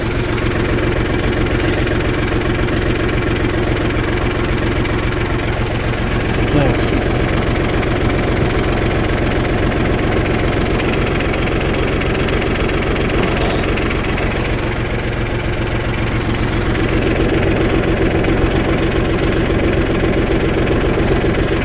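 A tractor engine runs loud and steady while plowing a field, with a constant deep rumble and vibrating knock that continues unbroken, and someone talks over the engine.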